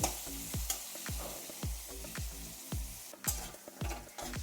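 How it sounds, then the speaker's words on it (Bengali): Cut potatoes fry in oil in a pan until reddened, a steady close sizzle broken by repeated spatula scrapes and stirring knocks roughly every half second, with no talking. "আলু কাটা বেশ ভালো করেই লাল করে ভেজে নেব"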